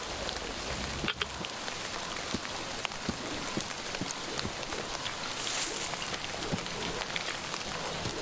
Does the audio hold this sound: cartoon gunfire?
no